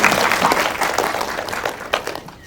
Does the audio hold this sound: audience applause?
yes